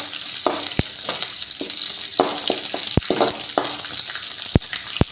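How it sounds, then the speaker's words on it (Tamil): Garlic, curry leaves and green chillies sauté in oil for a peanut chutney, a close, steady sizzle punctuated by several sharp clacks of a spoon against the pan at irregular intervals, with no talking. "பூண்டு, கருவேப்பிலை, பச்சை மிளகாய் போட்டு அதோடு சேர்த்து வதக்கலாம்ப்பா"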